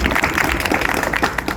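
Loud, dense applause from an audience at a student play about the gram panchayat at a government senior secondary school, sustained steady clapping that fills the space, with no talk over it.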